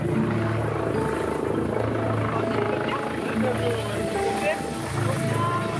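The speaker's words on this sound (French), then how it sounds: "Ouais, on va partir en hélicoptère." A loud helicopter drones steadily throughout with a constant rotor roar, close by, with faint voices mixed into the noise.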